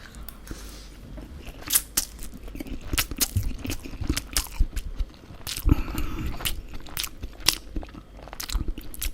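Chinese food being eaten close up, with loud crunchy bites and steady moist chewing in an irregular rhythm, no talking.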